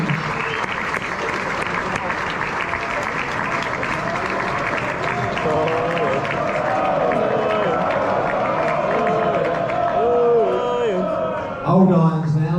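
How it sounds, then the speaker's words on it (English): Theatre audience applauds and cheers as West Ham football legends walk on stage, a loud, dense, sustained wash of clapping with whoops and shouts, a voice calling out over it near the end. "Keep that applause going as they enter the stage."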